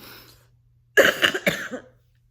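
A person coughs in a short close burst of about three or four harsh coughs, preceded by a faint breath and followed by quiet.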